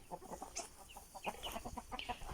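Chickens cluck and chatter around a rooster in a close flock, a busy stream of short overlapping clucks and squawks at moderate volume, with no talking.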